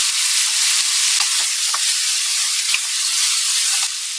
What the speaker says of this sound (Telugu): ఇవన్నీ కొంచెం కలర్ చేంజ్ అయ్యే వరకు మనం ఫ్రై చేసుకుందామండి